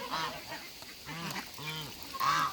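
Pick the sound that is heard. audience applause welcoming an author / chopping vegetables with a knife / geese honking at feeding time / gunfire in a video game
geese honking at feeding time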